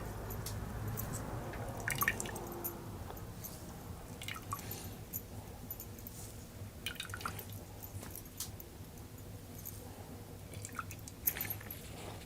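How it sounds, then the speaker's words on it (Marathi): Freshly grated coconut is squeezed and pressed by hand to wring out its milk, giving soft, wet squelches and drips that repeat irregularly over a low steady background, with no one talking. "खोबऱ्याचं पाणी असं आपल्याला हे पिळून घ्यायचं आहे."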